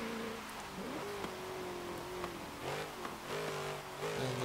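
A 2010 Ford Crown Victoria Police Interceptor in Forza, its automatic engine holding a steady high drone in second gear with small pitch swells and dips as revs shift, close and continuous with no talk.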